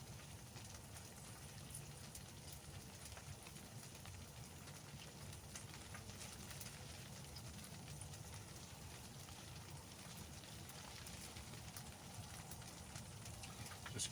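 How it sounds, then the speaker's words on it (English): Rain falls steadily on a hot tent at a wet, windy campsite, a quiet continuous patter with a soft low rush of wind underneath, no voices. "It's raining. I'm sure you can hear it, and there's a bit of wind blowing."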